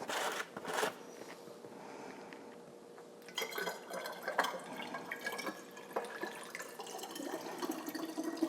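Red wine vinegar poured into a bottle during a pantry restock: a steady, close trickle of liquid that thickens into a fuller glugging pour, with no talking.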